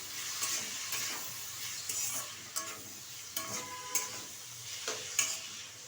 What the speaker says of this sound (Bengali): এবার ভালোভাবে এটা ভেজে নেব বেগুনের সাথে।